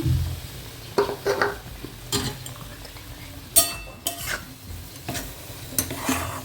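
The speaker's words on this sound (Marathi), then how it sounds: "त्याच्यात आता हे वाटीभर गव्हाचं पीठ ते आता खरपूस भाजून घेते" Wheat flour roasts in ghee in a pan as a spoon stirs and scrapes it in repeated close clinks and scuffs, over a soft sizzle.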